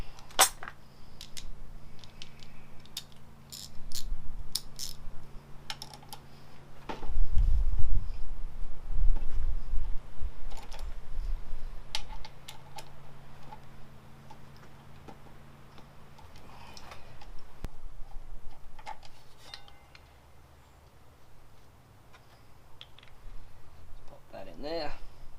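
A ratchet with a 12mm socket clicks in quick rapid bursts while removing motorcycle brake caliper bolts, with metal taps and handling noises in between and someone talking over parts of it.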